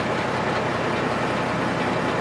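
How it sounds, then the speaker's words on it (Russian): Massed military engines drone at a border before dawn as a steady, dense, loud rumble with no breaks, filling the whole stretch of sound. "По другую сторону границы уже многие часы гудели моторы."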